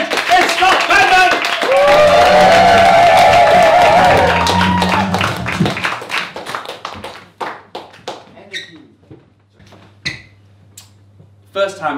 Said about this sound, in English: start whooping, start clapping